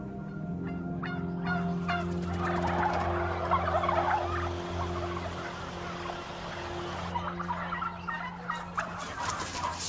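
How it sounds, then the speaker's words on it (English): Turkeys on a farm gobble and call together in a dense, overlapping flock chorus, close and loud, with a steady low mechanical hum beneath and no talking. "Today is the day in which we load all the turkeys for the Thanksgiving market."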